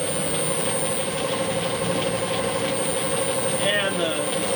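A Clausing lathe with a Reeves pulley variable speed drive runs at full speed, a steady whining motor hum with a high-pitched squeal held constant throughout, fairly quiet and close, with no talk.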